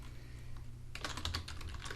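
A computer keyboard rattles with a quick burst of close keystrokes as a file name is typed, starting after a short quiet stretch over a low background hum.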